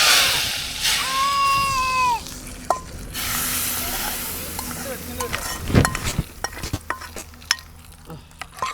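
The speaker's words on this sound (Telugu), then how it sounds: "ఇంకో పోపు అయితే వేసుకుంటుంది" Tempering being added to hot oil in a cooking pot over a gas stove during a roadside meal stop gives a bright sizzle that fades into stirring and scraping clatter. A few clinks and knocks follow, close by, and no one speaks.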